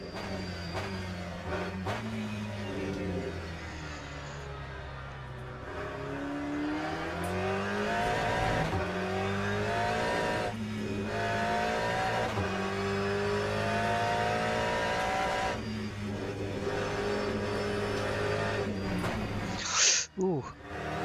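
Race car engine in Le Mans Ultimate, lapping on cold tyres at Portimao, Portugal, drones steadily with rising and falling revs across a long stretch, while a voice talks over it throughout.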